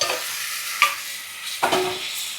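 Chicken meat frying in a pan with spices for curry, a loud sizzle punctuated by a few sharp scraping stirs of the spatula, with no talk.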